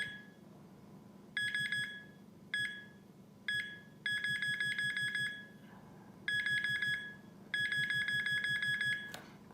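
A handheld metal detector pinpointer, from a comparison of the Nokta Pointer and Garrett Pro Pointer AT, gives repeated bursts of shrill electronic beeping of uneven length with short pauses between them, close and clear with no talking.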